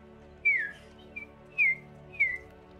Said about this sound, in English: all you can hear are just the sounds of birds